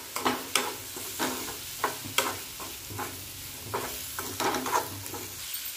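Carrots, peas and tomato sautéing in oil in a pan, a soft steady sizzle broken by repeated scraping stirs of a spoon at an irregular rhythm, close and fairly quiet.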